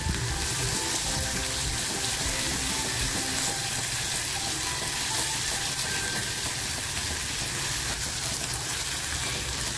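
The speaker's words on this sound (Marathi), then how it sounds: "मग हलकासा कांदा टोमॅटो फ्राय झालेला आहे।" Onion, tomato and a ginger-garlic-coriander paste fry in a pan, a loud, steady, hissing sizzle that stays constant from start to finish with no voices.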